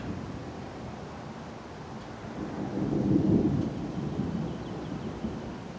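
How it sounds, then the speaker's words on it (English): Thunder from a passing thunderstorm rumbles low and distant, swelling into a broader roll midway before easing back under a constant wash of rain and wind. "Because the storm's cutting across this way"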